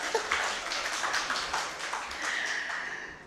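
An audience at a reggae month symposium claps softly and briefly, with a thin patter of hands heard from some distance at low volume.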